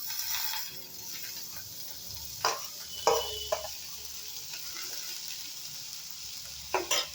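Mixed vegetables sizzle in melted butter in a pan, with several sharp scraping stirs and clinks over a steady hiss. No one speaks.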